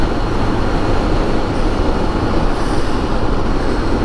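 A train rumbling steadily past beside a freeway, heard from a Spyder on a drying road after rain, loud continuous roar of wheels and wind with no pauses.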